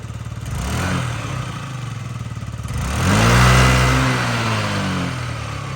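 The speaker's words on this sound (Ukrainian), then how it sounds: "Чистенько, чудово працює двигун, взагалі без питань." A Yamaha Jog SA36 fuel-injected scooter engine runs steadily, then revs up loudly for a second or two before settling back to a smooth idle, close by with no talking.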